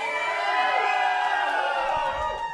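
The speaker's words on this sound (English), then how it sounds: "give us a cheer if you want to take the classic Kumar" Live comedy audience at a Nish Kumar show cheering in a steady, loud wash of shouts and whoops, a mass of voices holding for a couple of seconds before easing slightly.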